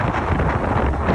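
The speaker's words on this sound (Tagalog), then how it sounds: "Grabe lang talaga yung hangin." Strong wind blows beside Caliraya Lake, a loud, constant rumbling buffet against the microphone with no speech.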